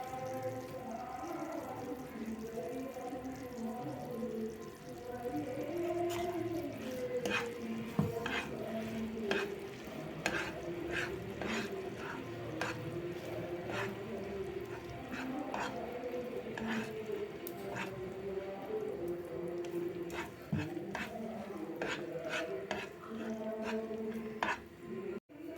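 Sweet kozhukattai filling (pooranam) is added bit by bit and mixed in a pan, with soft wet squishing, gentle sizzling and repeated light taps of a spoon against the pan, fairly quiet throughout.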